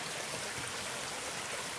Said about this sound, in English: Some good running water right down there.